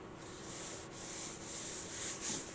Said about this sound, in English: just sort of rub my hand over it to heat up the glue so that it seeps into the velvet